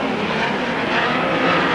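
Race cars roaring around a banked oval track at Susquehanna Speedway, a steady dense engine roar with no break, loud and continuous as the field comes through turn four.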